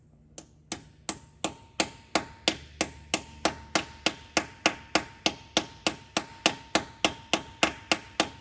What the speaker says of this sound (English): So I'm going to take a ball peen, tap on that a little bit.